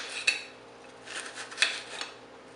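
Knife slicing an onion on a cutting board, a few soft, sparse chops spread across a quiet kitchen moment, no talking.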